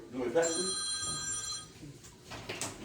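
A phone rings with an incoming call during a sports podcast. A short burst of bright ringtone sits under steady talk and stops after about a second.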